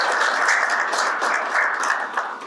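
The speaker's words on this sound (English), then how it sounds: "Please join me in giving him a round of applause." An audience applauds a speaker being introduced at a university public-service award event, sustained dense clapping from a sizable crowd, close and even, tapering slightly at the end.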